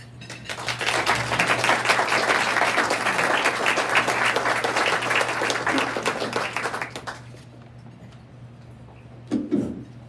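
Sustained audience applause in a meeting room greets two speakers, a dense, loud wash of clapping that fades out about seven seconds in. A steady low hum runs beneath it, and a brief voice follows near the end.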